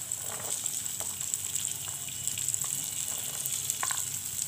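Peas hit a hot pan while a cabbage curry is cooked, giving a quiet steady sizzle with light scattered crackles and a few soft stirring taps.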